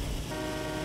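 A pickup truck's horn in Farming Simulator 19 blares in one short, steady, loud tone with no voices.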